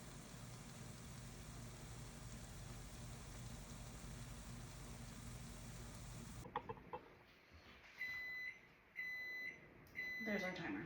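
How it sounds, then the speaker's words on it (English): A kitchen timer beeps in short repeated high tones during jalapeño pepper preserving, following a stretch of steady hiss; three or so beep bursts sound clearly near the end. "There's our timer."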